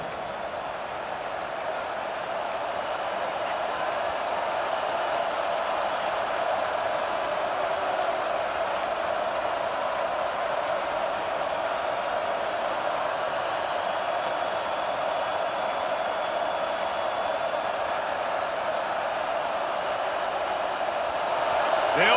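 A football stadium crowd at a Notre Dame game keeps up a broad, steady roar that swells slightly over time, with faint whistles or shouts poking through and a voice talking over it.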